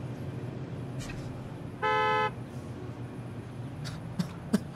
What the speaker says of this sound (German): Dieses verdammte Hupen!